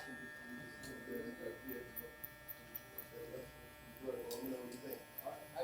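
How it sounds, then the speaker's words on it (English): Electric hair clipper buzzing steadily close by while fading hair in a barbershop-style cut, with the motor hum rising and dipping as it works through the hair, under intermittent talk. "I'm going to keep going until I have this clipper fully open"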